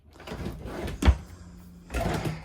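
Big drawers under the countertop of a 2024 Crossroads Fun Time 390JM travel trailer slide open and shut, giving a rolling rumble, a sharp thump, then another sliding run, close and fairly loud.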